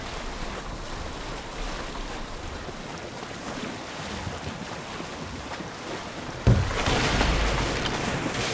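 Open-sea ambience in Assassin's Creed Odyssey: steady wind and rolling ocean waves wash around a small boat, then a louder surge of water splashes in near the end, with no voices.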